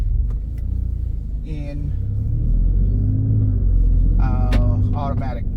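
Alfa Romeo Stelvio Quadrifoglio in dynamic mode with soft suspension, its engine a steady low rumble while driving, rising slightly midway, with brief speech over it.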